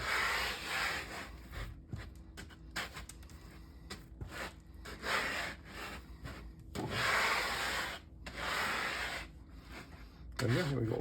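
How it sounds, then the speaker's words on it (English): Wholegrain sourdough dough made with organic flour being rolled through loose seeds, giving soft, irregular rubbing and rustling scrapes close by, with brief pauses between passes. "Roll it into the seeds."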